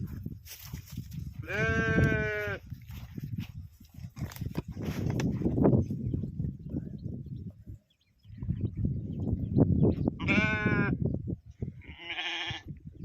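Sheep bleat loudly nearby, two or three drawn-out wavering calls, over steady rustling and shuffling of a flock with no talking.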